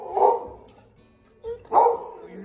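A dog barking at an animal shelter gives two short, close yipping barks with a lull between them.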